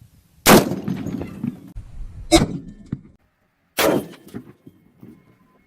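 Three sharp, loud .50 BMG black tip armor-piercing rounds are fired into an engine block outdoors, each blast cracking out with a short rumbling tail, spaced roughly two seconds apart.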